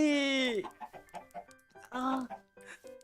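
A chicken in a video game clucks repeatedly, starting with a loud drawn-out squawk and then short choppy clucks in uneven bursts, close and clear.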